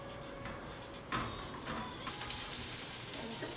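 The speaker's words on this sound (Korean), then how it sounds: "자, 다시 파를 볶아주기." Chopped green onions stir-frying in a pan for kimchi fried rice, a soft sizzle that jumps as the spatula scrapes and stirs, then swells into a brighter, louder frying hiss.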